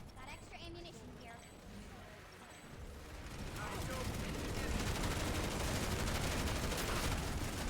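Gunfire in a first-person shooter, quieter shots early on that build into a dense, loud stretch of rapid automatic fire, with a voice speaking over part of it.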